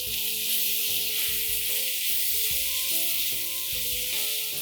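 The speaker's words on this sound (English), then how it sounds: "this is a wonderfully sautéed mixture of onions, tomatoes, and a couple of spices" Onions, tomatoes, spices and fresh coriander sauté in a pan for a quick creamy onion curry, giving a steady loud sizzle with faint stirring underneath.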